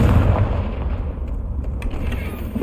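The Confringo blasting spell in Hogwarts Legacy sets off a deep, booming explosion that rumbles loudly at close range and then tails off with a few faint crackles.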